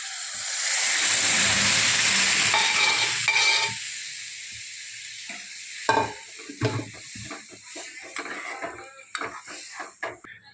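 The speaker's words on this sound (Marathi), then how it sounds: "आता आपण डाळ टाकून घेणार आहोत" Masoor dal lentils tipped into a hot cooking pan and stirred, a loud sizzling burst at first that settles into scraping spoon strokes and clinks against the metal pan, with no talking.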